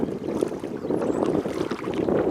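Canoe moving along the South Saskatchewan River with rocks about, a steady wash of water and hull noise mixed with wind buffeting the microphone, continuous and fairly close throughout.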